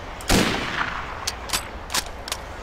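Gunfire in the video game Mafia: one loud burst of shots near the start, followed by several sharper, quieter single shots spread across the rest, with no talk over them.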